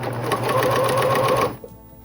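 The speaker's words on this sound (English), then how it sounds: "You line up with the ruler on your sewing machine as you stitch." A sewing machine runs close up as it stitches the binding onto a quilt, a fast even mechanical whir for about a second and a half before stopping abruptly, followed by a small click.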